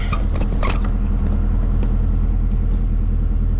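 A skid steer's engine runs steadily at a pond dam repair site, giving a continuous low, close rumble with a few faint metallic clinks early on.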